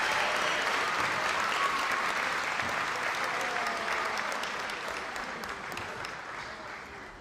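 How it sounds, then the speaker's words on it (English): A theater audience at a charity fashion show gives a round of applause to the orchestra, a dense, steady clapping that slowly fades near the end. "Can we give another round of applause to the orchestra for that incredibly moving story and performance?"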